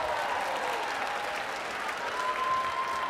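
Sustained applause from a large high school crowd in a gym at a winter pep assembly, honoring the school's jazz band, a dense, even wash of clapping with faint cheering throughout.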